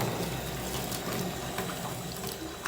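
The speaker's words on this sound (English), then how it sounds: "We fill it up with warm water" Warm water gushes and burbles steadily into a bladder inside a container at a ranch, close and continuous, with no voices.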